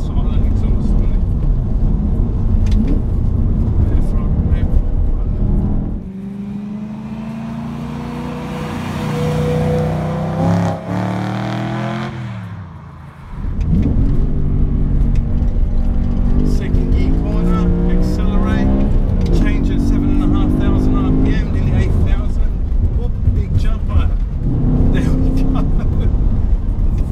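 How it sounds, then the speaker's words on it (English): A BMW M3 V8 fitted with a sports exhaust revs and drives, giving a loud, deep engine growl that rises and falls, fades briefly in the middle, then builds again. Someone talks over much of it. "this car sounds great because it does have a sports exhaust installed, hence why it brings out that nice V8 growl"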